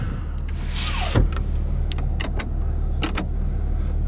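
Electric sunroof motor in a 2004 Acura TL, a short whirring run inside the cabin, followed by a few small clicks and knocks over a steady low car hum, with no voices.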